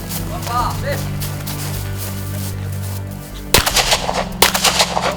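At a sport shooting range, a burst of sharp gunshots cracks out near the end over a steady low machine hum. Voices are heard in the background before the shots.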